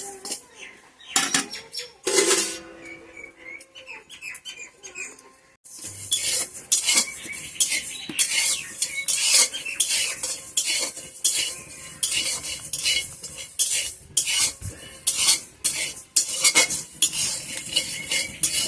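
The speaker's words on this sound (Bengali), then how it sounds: "তো সবাই প্রথমে এক মুঠো বুক চাল আমি ভেজে নেই। হালকা করে এটা ভেজে নেই।" A spatula scrapes and clatters against a pan as a handful of rice is lightly dry-roasted, giving dense, rapid metallic strokes up close after a few sparse opening knocks.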